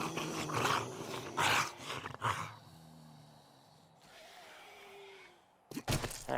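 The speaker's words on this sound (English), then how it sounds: "I thought I heard growling behind me." A zombie in the survival video game 7 Days to Die growls and roars in low, throaty bursts, loud at first and then trailing into quieter rasping breaths before another harsh outburst near the end.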